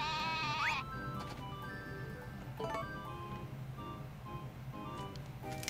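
Goat bleating in Harvest Moon: A Wonderful Life, one clear wavering bleat at the start followed by a few fainter bleats over a low farm-game background hum, no talk.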